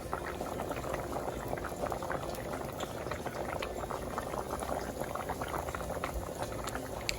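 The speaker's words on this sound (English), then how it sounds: "So first you want to start off with getting your rice boiled." Rice boils in a pot of water with a steady, dense bubbling and gurgling that holds at an even loudness throughout, close by and with no voices.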